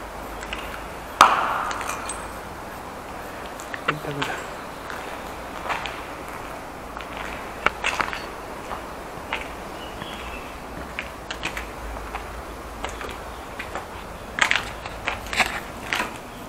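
Footsteps crunching over scattered broken window glass inside a large abandoned factory, with intermittent sharp crackles and crushing bursts at irregular intervals, close by over a hushed room tone.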